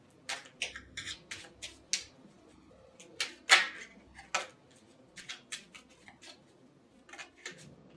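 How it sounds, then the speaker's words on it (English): Tarot cards are shuffled by hand in short, crisp bursts of riffling and snapping, separated by brief pauses, close and fairly quiet. "I'm going to shuffle and we'll lay another layer down."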